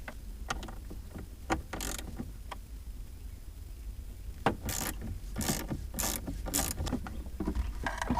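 Plastic trim cover being unclipped and worked loose inside a Bentley Continental GT, a series of sharp plastic clicks and snaps with scattered knocks, some closely grouped, over a faint quiet background.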